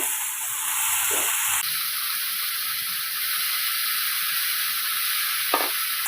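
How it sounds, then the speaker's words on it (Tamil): Chopped onion and snake gourd sautéing in a hot pan, a steady sizzle with scraping stir strokes that carries on for several seconds, heard alone without talk. "இதை கொஞ்சம் வதக்கி விட்டு எடுத்துக்கலாம் வெங்காயம் வதங்கணும்"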